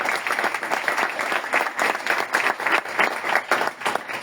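Enthusiastic applause from an audience at a literary talk in Madrid, dense steady clapping continuing throughout without any speech.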